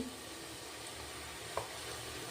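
Garlic paste sizzles in hot oil in a pan for mutton curry, a steady bright hiss with a single soft scrape of stirring partway through, fairly quiet and close.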